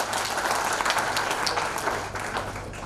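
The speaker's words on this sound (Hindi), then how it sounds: "ताली बजाते जोर से" An audience at a national summit on climate change claps loudly. The applause is thick and continuous, hands beating fast and close for the whole stretch, then softening slightly toward the end.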